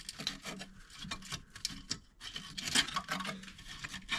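Rust flakes are scraped and rasped out of the inside of a Range Rover Classic's left-hand B post, a quick run of close, irregular scratching strokes with brief pauses.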